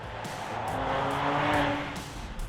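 A Porsche Cayenne S Coupe corners hard, its engine and tyre roar rising and falling in a brief, dense rush of road and motor noise heard from nearby.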